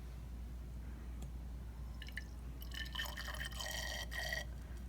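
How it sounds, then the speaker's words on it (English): Distilled water trickles into a test tube in a chemistry equilibrium lab, a few faint drips followed by a brighter pouring, filling splash near the end over a low background hum. "Now he's going to add some distilled water to get it up so it's deeper."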